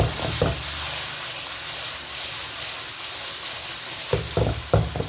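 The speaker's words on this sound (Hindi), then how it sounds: "ये देखें व्यूअर्स, टिंडे हमारे फ्राई हो रहे हैं।" Stuffed tinda, or apple gourd, frying in ghee over a low flame, giving a continuous soft sizzle with bursts of spoon scraping and stirring clatter near the start and end.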